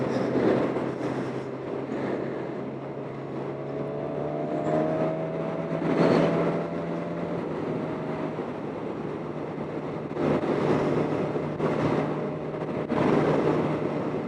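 A 2020 Suzuki Katana motorcycle engine at about 70 mph, a continuous engine drone with gliding harmonics, mixed with heavy wind rushing past and swelling gusts throughout.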